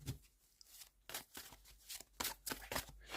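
Crisp, papery riffling of tarot cards being shuffled in quick bursts, close up, with short pauses between runs and no talking.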